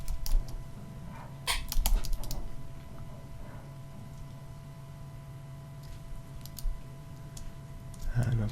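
Keys typed on a computer keyboard while entering git commands in a terminal, heard as short scattered clicks in a few bursts over a steady low hum.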